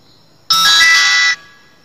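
A button mobile phone gives a single bright electronic ringing tone that starts abruptly, holds steady for under a second and cuts off, then a faint tail lingers in a quiet room.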